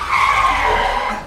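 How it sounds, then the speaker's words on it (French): A car brakes hard behind someone, its tires skidding in one loud, sustained screech that fades slightly toward the end. "une voiture a freiné brutalement dans mon dos"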